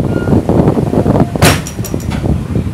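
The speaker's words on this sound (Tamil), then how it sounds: "கதவு காத்துக்கு டம்னு சாத்துது." A train door swings shut in the wind with a sharp bang partway through, set against rumbling, gusty running noise of a moving express passing through forested hills.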